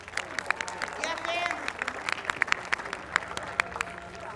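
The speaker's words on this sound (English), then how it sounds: "So big round of applause for the fans" Crowd at a 2022 Athletes Unlimited pro lacrosse game bursts into steady, dense clapping that fills the venue, while a voice carries over the applause on the loudspeaker.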